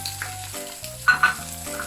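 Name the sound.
stir-frying rice for Thai shrimp fried rice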